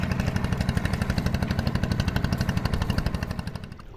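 A boat's engine runs on a river at Kalitala Ghat in Bogura, giving a fast, even throbbing chug at moderate volume that fades toward the end.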